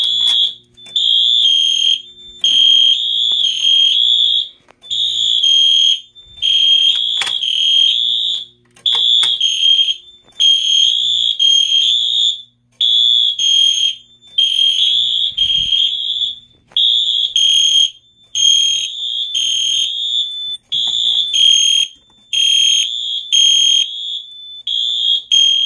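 Fire alarm system sounding during a test, a loud repeating electronic tone in regular on-off bursts with brief gaps, close and continuous throughout with no voices.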